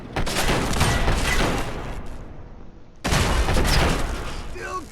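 Dense, continuous bursts of Fallout 4 gunfire roar loudly, cut off briefly for about a second before resuming just as intensely, with voices mixed underneath.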